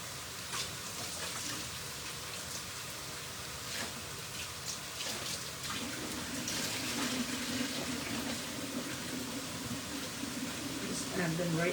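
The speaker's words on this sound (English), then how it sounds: "I'm just going to run them through hot water" Hot water runs from a kitchen tap over frozen peas, a steady hiss and splatter that holds a constant level with no voices.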